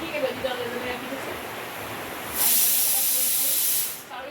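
A pressure cooker whistles in a home kitchen while a meal is cooked, a sustained loud hiss of steam that rises suddenly and holds for over a second before cutting off, following quieter room noise and faint talk.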